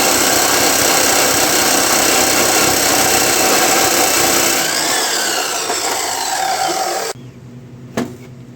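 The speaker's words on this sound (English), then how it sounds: "Okie dokie, we got this thing in the old chop saw." A chop saw grinds through heavy metal stock, loud and continuous, its tone shifting as the blade bites deeper before spinning down and cutting off abruptly, followed by a faint clunk.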